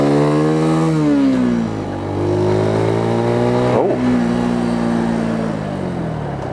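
A Mutt Mongrel 250 motorcycle engine while riding, loud and close, holding a steady drone that dips briefly before pulling back up, with one sharp shift in pitch partway through.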